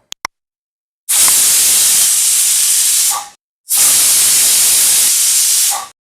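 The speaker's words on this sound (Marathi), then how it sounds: "इथे कुकरची वाफ पूर्णपणे निघाली आहे." A pressure cooker used to steam kothimbir vadi lets off its steam: two brief clicks, then two long, loud, harsh hissing bursts of about two seconds each, separated by a short pause.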